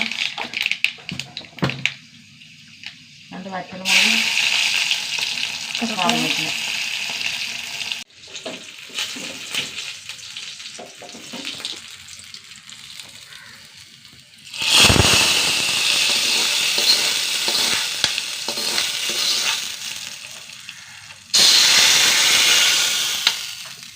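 Mustard seeds and fenugreek crackle and sputter in hot ghee, a loud close hissing sizzle that comes in long bursts with quieter gaps between them and scattered popping.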